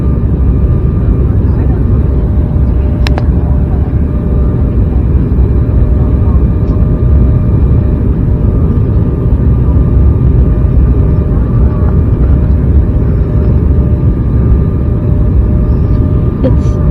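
A loud, constant roar of an airplane engine fills the whole stretch, steady and droning, with a brief click near the start, heard from inside the cabin.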